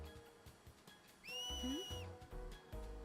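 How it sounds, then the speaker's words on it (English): A single bright, rising whistle sounds loudly for under a second in Final Fantasy X, the kind blown to cheer on blitzball players, and it stands alone between quieter background noise. "It's a whistle."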